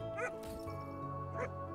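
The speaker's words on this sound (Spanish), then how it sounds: "Está bien, pero sigue ladrando tan alto como puede." A dog in the survival video game Undawn gives two sharp yipping barks about a second apart, moderately faint over a steady low in-game hum.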